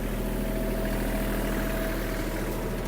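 The diesel engine of a Kubota KL-25 Japanese mini tractor runs close by at raised revs with the PTO shaft and blades turning, a steady, loud rumbling drone with no voices.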